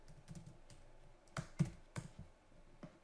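A search is typed into Google on a computer keyboard: a loose run of key clicks, with a few sharper taps clustered near the middle, close and fairly quiet, with no speech.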